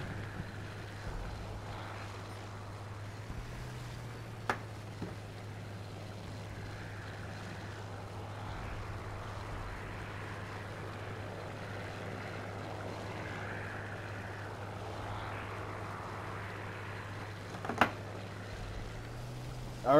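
The propeller engine of a BF 109 fighter in the War Thunder air combat game drones as a steady low hum, with a few sharp clicks and a brief engine surge near the start and end.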